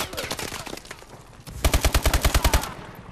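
Rapid gunfire from the video game Call of Duty Advanced Warfare, a loud burst of about ten evenly spaced shots following quieter game sounds and brief voices.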